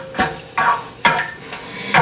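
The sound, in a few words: stirring ingredients into a pot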